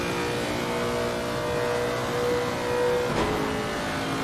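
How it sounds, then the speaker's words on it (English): A race car engine in a rain-soaked racing video game round at Spa revs hard and steadily up the Camel Straight, a loud continuous drone with a brief pitch shift near the end. "Hear that engine working nice and hard as they go up the Camel Straight"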